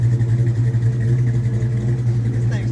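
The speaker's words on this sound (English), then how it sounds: "start all the cars up, go down the line. They're going to kind of drown each other out, but we just want to let you hear them all at the same time." Several Foxbody Mustang V8s fitted with different camshafts idle together nearby, blending into one loud, steady, lumpy low rumble.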